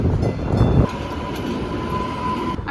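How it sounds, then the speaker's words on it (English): A subway train arrives at a Boston station, a loud sustained rumble of rolling wheels and rail noise that swells at first, then settles into a steady roar with a faint high squeal running through it. "Oh boy, the train's coming."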